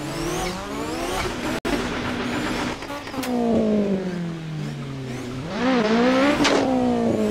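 A car engine in a drifting video game revs and climbs in pitch through several accelerating surges, with tire squeal and a constant loud roar.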